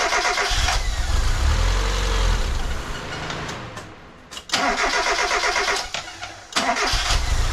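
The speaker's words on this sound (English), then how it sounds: "So let's try to start the car and make sure everything works." Engine of a Locost donor car cranking and firing up, loud and close, with repeated start attempts: a rough run, a pause, then it catches again and settles into a steady idle.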